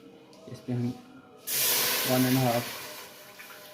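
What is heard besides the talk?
water poured into cooking pot for mutton shorba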